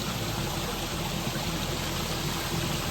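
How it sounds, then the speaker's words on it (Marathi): A steady, broadband rush of falling water roars continuously, dense and unbroken, like a waterfall below a bridge heard from nearby in a forest at night during monsoon rain. "खाली धबधबा आहे तो"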